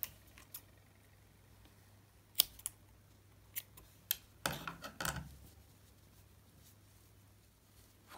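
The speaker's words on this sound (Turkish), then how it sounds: "Fazlalık ipi de kesiyorum." Scissors snip excess yarn while finishing a knitted newborn baby vest, with a few faint, sharp clicks and a short rustling cut close by in a quiet room.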